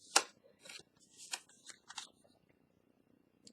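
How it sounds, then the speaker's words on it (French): Scissors make a few quick, close snips and crisp blade rasps in a short burst, then go quiet. "Je coupe. Le ciseau ici,"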